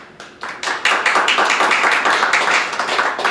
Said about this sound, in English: I'm going to clap if you think Beth is lying.